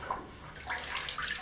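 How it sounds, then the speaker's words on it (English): A paint roller, used to strip a popcorn ceiling, is dipped into a bucket of water, giving a soft splashing and sloshing swirl that swells halfway through, quiet and close. "I'm going to put it into the water"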